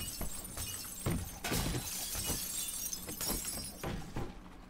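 Glass breaks repeatedly in the survival video game 7 Days to Die, a run of sharp, crunchy shattering bursts that follow one another in quick succession at close range.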